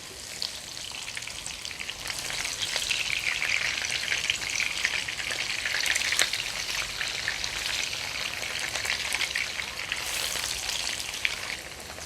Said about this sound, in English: When the oil is hot, we're going to deep fry the tofu first.